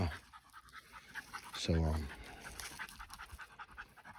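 A young female puppy of about four and a half months pants in a short quick burst of breaths, close by, while someone talks over it.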